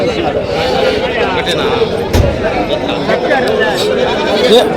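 Goat kids bleat amid chatter from people nearby at a livestock market, the animal cries mixing with voices outdoors.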